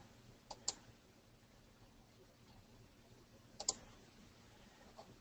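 A computer mouse clicks faintly a few times, in sparse paired clicks set against a quiet room hum, with no talking.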